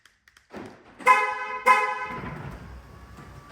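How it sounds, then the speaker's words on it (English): Two short car horn honks about half a second apart, loud and close, sounded on locking, followed by the low mechanical rumble of a Retrax EQ electric tonneau cover closing. "It does honk the horn, of course, when you press 3 times to lock it"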